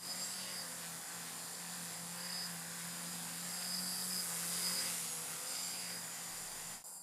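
A home-built VTOL drone aircraft flying and hovering close by, its rotors giving a steady, loud buzzing whine that holds throughout and swells slightly in the middle.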